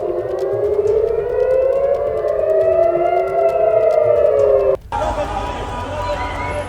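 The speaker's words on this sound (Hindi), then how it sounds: "सायरन पूरे इजराइल में इस वक्त सुना जा सकता है।" A civil defense air raid siren wails across Israel, loud and sustained, its pitch rising and falling in slow sweeps, with a sudden cut to a harsher, noisier sound near the end.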